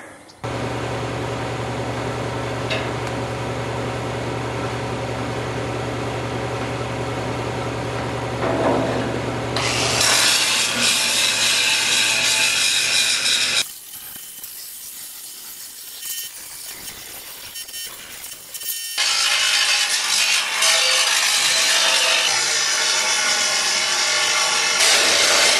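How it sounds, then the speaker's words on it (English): A pressure washer blasts a DIY heavy-duty trailer frame to degrease it before painting: a loud, continuous hissing spray with a low motor hum underneath, its tone shifting abruptly as the nozzle moves and briefly dropping quieter midway. "So time to pressure wash, go quality control on all the welds"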